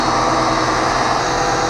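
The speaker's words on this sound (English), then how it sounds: "keep the engine running at a fast idle until all the remaining cleaner is purged from the exhaust system" Engine held at a fast idle while leftover cleaner is purged from the exhaust system, a steady, loud, continuous mechanical drone with no pauses and no voices.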